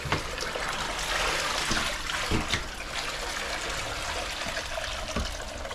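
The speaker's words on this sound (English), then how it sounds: "So just go ahead and drain this out real good." Water steadily drains and trickles out of a hunting bag, a continuous wet rushing with occasional small splashes and drips, close by.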